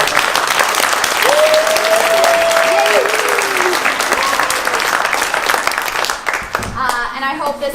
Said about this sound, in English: the biggest round of applause